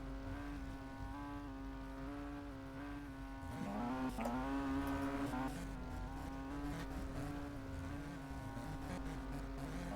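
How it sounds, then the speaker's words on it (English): A racing car engine at a DSCDA E-Series championship round hums steadily with a droning tone, rising briefly in pitch as it revs, then settling back; nearby and continuous, with no talking. "I can hear someone revving up his engine already."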